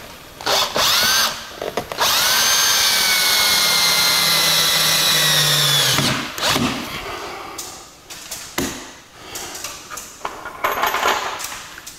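A power drill tightens fasteners while installing a Buck Stove model 91, giving one loud, sustained whine that ramps in pitch. Metallic clanks and handling knocks follow.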